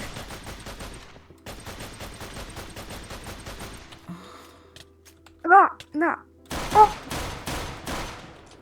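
Gunfire aimed at zombies in a zombie apocalypse video game, rapid bursts of shots in long runs, then a pause with brief thuds and another volley, with a voice talking in between.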